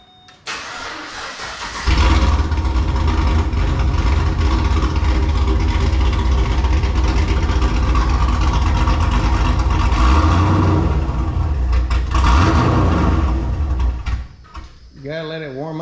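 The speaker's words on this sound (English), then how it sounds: "Let's go ahead and fire it up and see how it sounds, right?" A Pontiac G8 with repairs and a new exhaust cranks and fires up loudly, settles into a deep, steady idle, gets a couple of revs, then stalls near the end, with brief talk around it.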